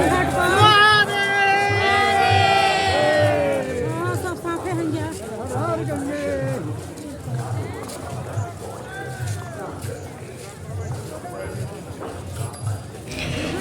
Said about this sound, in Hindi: यहाँ लग रही है, यहाँ कुंभ वाली भीड़ है।